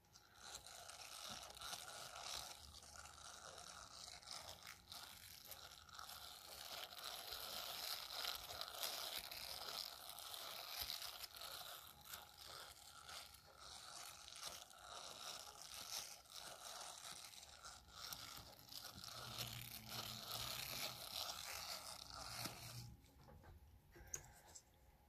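Crisp, crunchy scratching and rustling sounds of silicone brushes on the microphone, close up, steady and continuous with dense textured bristling throughout.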